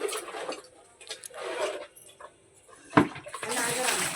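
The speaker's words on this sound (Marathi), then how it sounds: "मम्मी पाणी ओतते टपमध्ये" Water is poured into a tub on a farm where bullocks drink before rice sowing, giving splashy, gurgling bursts that come and go, with louder sloshing near the end.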